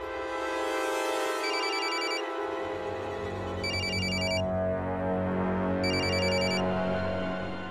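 A mobile phone rings steadily with a repeating electronic ringtone in regular bursts, loud and close, with no talking over it.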